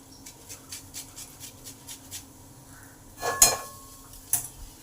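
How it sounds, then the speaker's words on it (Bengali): Gondhoraj lemon skin is scraped on a hand grater in a kitchen, a run of evenly spaced light rasping strokes, quiet and close, followed by a couple of sharper metallic clinks. "একটা গ্রেটার নিয়েছি, ভালো করে গ্রেট করে দিয়ে দিই।"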